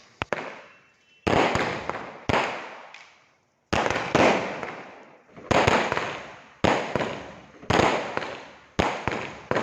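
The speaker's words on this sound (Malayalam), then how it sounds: "പടക്കമൊക്കെ ആകെ ചിതറി ആണ് പോയത്" Firecrackers burst at a church festival in Irinjalakuda, a string of sharp loud bangs in irregular bursts with crackling scatter and short gaps between them.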